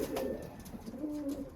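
Iraqi pigeons kept as caged birds for sale coo softly, a low continuous murmur with a couple of longer rolling coos, faint and steady at close range with no talk.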